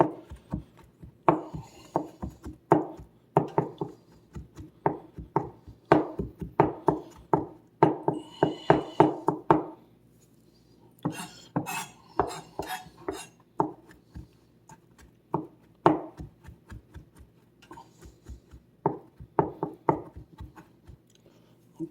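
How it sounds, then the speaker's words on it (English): Knife chopping and mincing mushrooms on a board, a long run of quick, sharp, close-up chops in bursts with brief pauses. "So I'm going to chop these up real fast. Mince them up."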